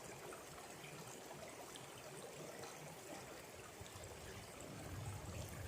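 Water running through a gold sluice box set in a town creek, a steady, soft trickling flow with light splashing, continuous and fairly faint.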